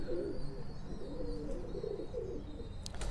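Sialkoti pigeon pair cooing in low, soft, continuous murmuring phrases, close by, with faint higher chirps from other birds and a few brief rattling sounds near the end.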